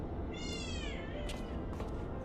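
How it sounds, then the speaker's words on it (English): A cat meows once, a drawn-out rising-then-falling cry, followed by two shorter chirps over a constant, loud background hiss of game audio. "My cat."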